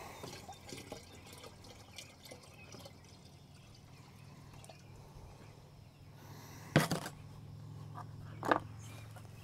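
Water sloshes, trickles and drips softly while a backpack sprayer tank is rinsed out, with a couple of louder splashes and knocks near the end.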